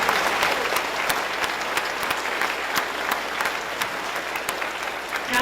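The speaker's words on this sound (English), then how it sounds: "Let's give Joe a round of applause" A crowd claps loudly and steadily at a museum ribbon-cutting ceremony in Rochester, New York, dense applause close by that holds an even level for several seconds without talk.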